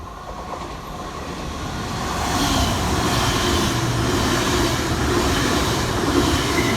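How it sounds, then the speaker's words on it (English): TransPennine Express unit 802-218 runs non-stop through Broad Green station in Liverpool on a late-running Newcastle to Liverpool Lime Street service. Its steady, loud rolling rumble swells after about two seconds and holds close, with no voices. "Next fly through the station for TransPennine Express is 802-218"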